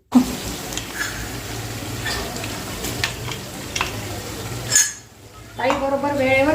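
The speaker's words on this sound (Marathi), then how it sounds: "मॅशरने तो व्यवस्थित असा मॅश करून घेते" A masher works steamed carrot, beetroot, tomato and capsicum for pav bhaji in a pressure cooker, producing soft repeated squelching thumps and light metal clinks at close range, ending as a voice begins to talk.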